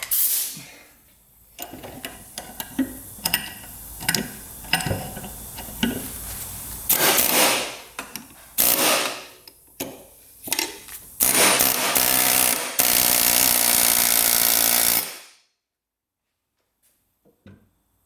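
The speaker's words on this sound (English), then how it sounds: "Alright, air hammer coming out." An air hammer rattles in rapid bursts on a stuck part of a Kubota diesel UTV, stopping and starting repeatedly, then runs in a long loud stretch before cutting out to silence.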